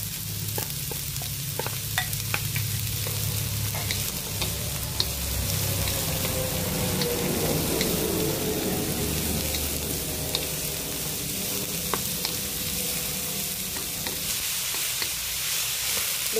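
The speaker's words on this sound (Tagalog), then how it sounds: "Ilagay ko na yung string beans." String beans and onion sizzle and crackle in a hot pan during stir-frying, a steady loud frying hiss broken by scattered pops and the scrape of stirring, with no talking.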